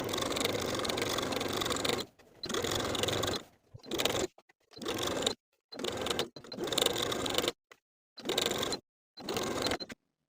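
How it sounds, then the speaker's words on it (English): A sewing machine understitches around a V neckline in short bursts of running separated by brief silences, close and moderately loud with no talking. "As you're understitching around that V section, your presser foot won't allow you to understitch all the way to the bottom of the V"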